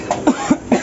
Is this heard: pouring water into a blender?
no